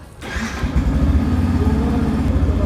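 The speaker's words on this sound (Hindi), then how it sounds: "तो अब अगर मैं अपनी मोटरसाइकिल को स्टार्ट करता हूँ" Yamaha FZ V4 motorcycle engine cranks and catches after a brief quiet moment, then settles into a steady, close, loud idle rumble with no talking.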